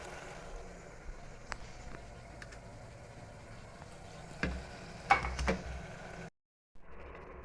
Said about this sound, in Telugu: ఇప్పుడు మనం శుభ్రంగా కడిగి పెట్టుకున్న చికెన్ వేసుకుందామండి